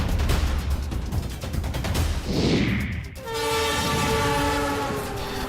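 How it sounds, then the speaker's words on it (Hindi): A train runs at 120 km/h through a new rail tunnel between Jamalpur and Ratanpur, a loud steady rumble with clattering wheels, then a sustained high metallic whine and screech as it passes close. "120 किलोमीटर प्रति घंटे की रफ्तार वाली ट्रेन चलाने का सफल ट्रायल किया गया"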